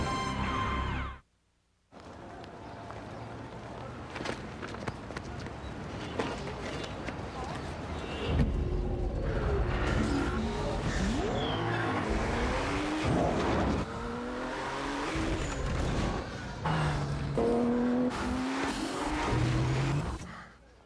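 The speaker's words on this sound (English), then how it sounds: "The 265 horsepower Nissan Maxima." A Nissan Maxima with 265 horsepower drives hard, its tires squealing over music and effects that run loud and continuous for about twenty seconds after a brief silent gap near the start.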